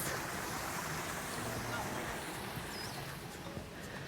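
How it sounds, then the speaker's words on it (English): Waterfalls splashing in a shaded hotel pool area in Waikiki, a steady broadband rush of falling water, moderately close and continuous, with no other sounds standing out. "Really nice waterfalls that are over here."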